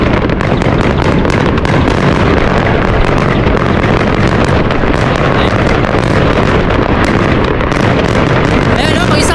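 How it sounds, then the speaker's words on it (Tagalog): Continuous New Year fireworks and firecrackers bursting nonstop, a dense loud barrage of pops and booms filling the whole stretch, with voices faintly under it. "isang oras na putukan"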